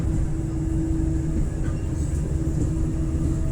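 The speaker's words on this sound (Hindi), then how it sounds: "तो अभी हमारी ट्रेन पहुंचने जा रही है गुरुद्वारी जंक्शन।" The 22108 Latur Mumbai Superfast Express travels in a loud, continuous low rumble of wheels and carriage heard from inside, with a steady drone and faint higher squeals throughout.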